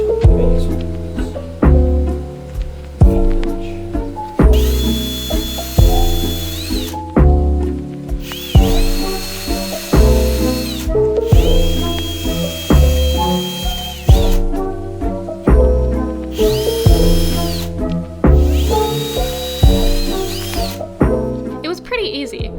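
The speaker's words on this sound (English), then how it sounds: "All we needed to do was drill some holes, then glue and screw the legs onto the table." Repeated bursts of a power drill whining at high pitch as it drills holes in wood, each lasting a second or two, over steady background music with a strong beat.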